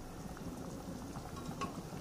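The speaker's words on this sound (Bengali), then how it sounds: "জলটা একটু ফুটে এলে নুনটা দেখেই নামিয়ে দেবো।" Water boiling in a cooking pot on a home stove, a soft, steady bubbling that is quiet and continuous, with no talking.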